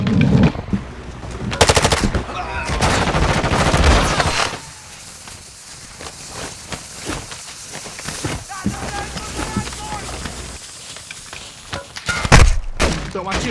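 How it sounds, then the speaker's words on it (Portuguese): Bursts of automatic gunfire in Call of Duty: Modern Warfare II, loud rapid volleys at the start and end with scattered shots and action noise between, and a voice talking through parts of it. "Estão atirando em mim."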